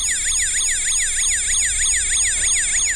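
A Majorette Hero Patrol toy police vehicle, die-cast with a plastic base, plays its siren close to the microphone: a loud, steady electronic wail sweeping up and down in quick, regular cycles with no talking.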